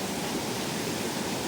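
A river flows steadily beside a campsite at Payat Campsite, Batu Kurau, a dense even rush of water that stays constant and close throughout the short moment.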